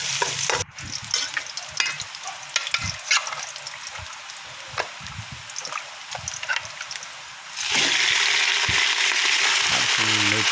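Ginger sautéing in a pan for native chicken arroz caldo, a close, busy sizzle broken by repeated spatula scrapes and taps, swelling into a louder, denser hiss near the end.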